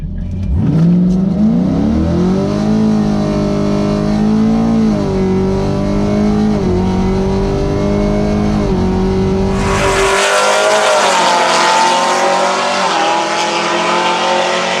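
A Camaro 1LE or Audi TTRS accelerates hard off the line at a drag strip, its loud engine rising in pitch through several upshifts, then a sudden burst of broadband roar as the car blasts past close by.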